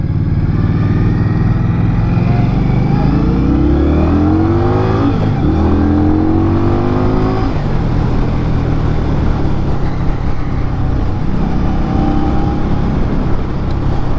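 Indian Scout Rogue motorcycle (2022) V-twin engine revving and accelerating, loud and close with rising pitch sweeps through several gear changes and a steady rumbling drone throughout, no talking.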